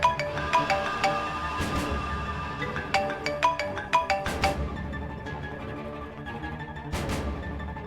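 A melodic electronic phone ringtone plays in repeating phrases, close and clear, with no voices.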